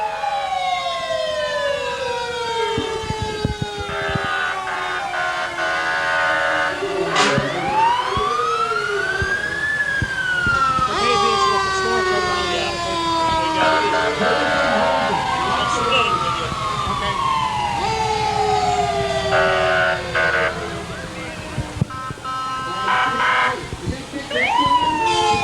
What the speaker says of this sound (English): For us, it's an Elburn Countryside ambulance.